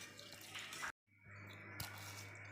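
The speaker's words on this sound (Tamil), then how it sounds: "நல்லா 2 டைம் நல்லா அலசிக்கலாங்க அரிசியை." Black kavuni rice is rinsed by hand, water splashing and swishing in a container with a brief pause, a low steady hum running underneath.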